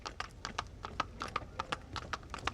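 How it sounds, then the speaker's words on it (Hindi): A horse-drawn cart clip-clops along in a quick, even rhythm, the hoof strikes sharp and regular but fairly faint, with no voices. "घोड़ा गाड़ी।"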